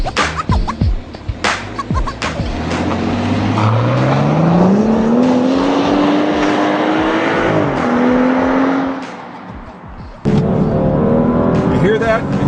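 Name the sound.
BMW X5 engine revving in sport mode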